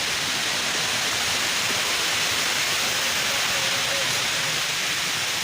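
Moramo waterfall in South Konawe, a loud, steady broadband roar of rushing water that fills the whole moment without pause.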